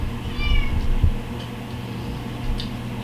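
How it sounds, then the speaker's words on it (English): A cat meows in a kitchen while guacamole is being made, a short near call rising early and a fainter second mew later, over steady room hum with no talking. "Is that your cat?"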